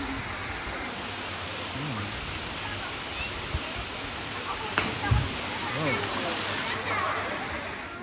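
Water rushes steadily at natural springs at a home in Amadeo, Cavite, Philippines, a dense, constant hiss and wash filling the whole scene, with faint voices and occasional splashes underneath.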